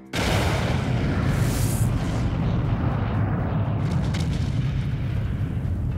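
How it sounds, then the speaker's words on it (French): A massive explosion representing the blast that destroyed the USS Maine in Havana harbor erupts suddenly, then rumbles on as a loud, sustained low roar with a bright crackling burst early on. "une terrible explosion coupe le navire en deux"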